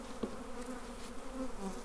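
Honey bees buzzing steadily around a freshly arrived nuc hive in a homestead garden, a continuous close drone with slight swells and no voices.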